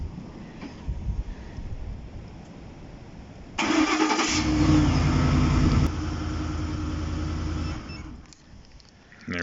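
A car engine, started by a remote starter with no key in the ignition, cranks and catches, then settles into a steady idle, close by, with faint background noise before it starts.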